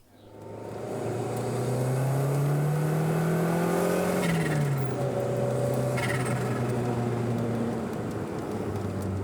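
A Lancia Delta Integrale 16V engine pulls in third gear on Sardinian mountain roads, its loud, close droning note rising steadily, then dropping after a shift. It climbs again with a sluggish turbo-lag feel, and no voices are heard.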